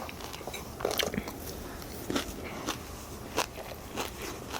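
Close-up chewing of gimbap in an eating show, soft moist crunches and bites repeating irregularly every second or so.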